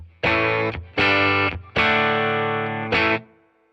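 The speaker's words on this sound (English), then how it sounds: "So here's the sound with the pedals bypassed." An electric guitar plays through a Fender Tone Master Deluxe Reverb amp with its pedals bypassed: four bright, sustained chords struck one after another, each cut off cleanly, with a short ringing tail at the end.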